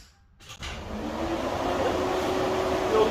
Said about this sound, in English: Fuel pump's working.